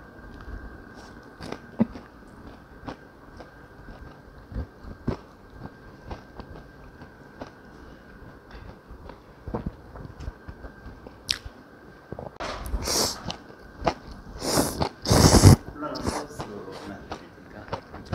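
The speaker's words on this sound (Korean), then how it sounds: "탕수육도 하나 먹어볼게요." Mukbang eating of tangsuyuk, Korean sweet and sour pork, heard close up as soft squishy bites and chewing, with louder crunchy bursts in the second half.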